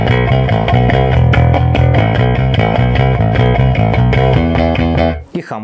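A custom bass guitar played through its precision pickup alone gives a loud, close, continuous riff of steady notes. The playing stops abruptly near the end.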